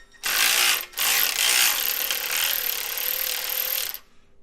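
A ratchet wrench breaks loose the bolts on a GM 4L80E transmission in a Chevy truck or van. It makes a loud, dense ratcheting clatter for about four seconds, broken by one short pause near the start.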